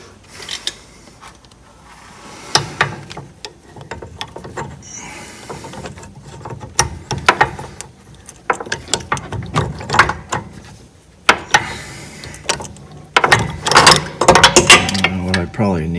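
A ratchet turning a half-inch socket while working on the steering column of a 2013 Toyota Avalon, close irregular bursts of clicking pawl strokes, some rapid runs, with occasional speech nearby.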